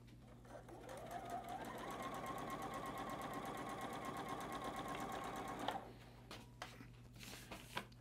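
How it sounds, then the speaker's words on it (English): A sewing machine stitches a batik fabric quilt block in a steady, fast run of close whirring stitches for about six seconds, then stops, leaving a few light handling clicks and taps. "We're gonna sew this on to match."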